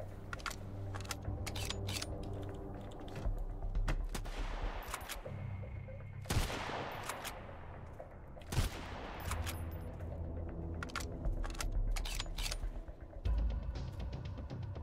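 Heavy gunfire from a big gun in the survival game Sunkenland, loud bursts and single shots repeating irregularly over a steady low background hum, with no talk.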